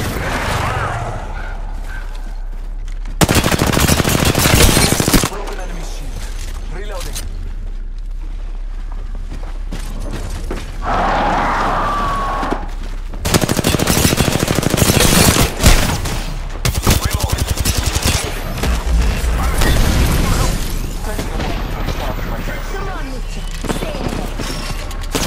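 Apex Legends gunfire rings out in loud, rapid bursts that come and go across the stretch, with fusillade-like volleys, some mechanical clatter and a voice speaking now and then.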